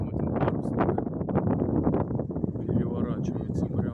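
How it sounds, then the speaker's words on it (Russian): Strong warm wind buffets the microphone outdoors near sailboats on a hot day, a steady loud rumbling roar throughout with a person talking over it. "Ну, немножко ветер такой сильный"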